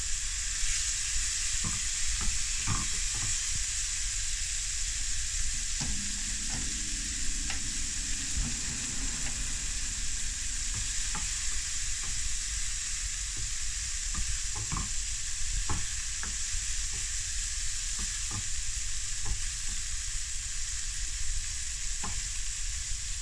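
Bacon sizzles in a pan with a splash of olive oil for carbonara, a steady crackling hiss close up, while occasional scrapes and stirring clicks sound over it.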